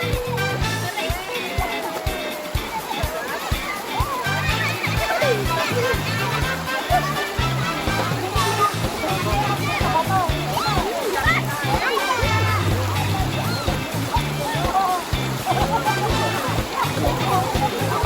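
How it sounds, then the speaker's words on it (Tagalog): A strong current in a clear river splashes and sloshes steadily throughout, close and loud, with children shouting and talking excitedly over the rushing water. "Ang lakas ng agos!"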